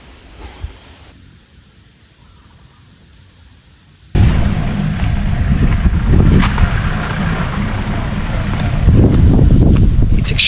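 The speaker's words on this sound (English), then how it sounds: "It's extremely windy today" Strong wind blows outdoors in rural Thailand, a quiet low rumble at first that suddenly becomes a loud, continuous buffeting roar with gusts swelling toward the end.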